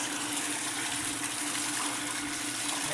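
Water gushes steadily from a newly rebuilt water pump, a continuous close, even rush of flow running without a break and with no voices over it.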